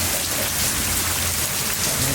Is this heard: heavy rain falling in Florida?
yes